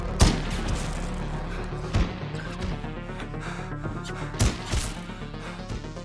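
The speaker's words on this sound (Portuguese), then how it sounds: "tiroteio continua, mano." Gunfire in the video game Bloodshore: several sharp, loud shot-like bursts ring out at irregular moments over a dense backdrop of game score and ambient rumble, with no talk heard.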